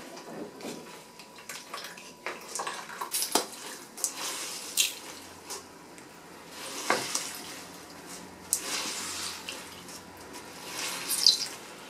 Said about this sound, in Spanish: vamos a escurrir todo el exceso de líquido escurrimos bien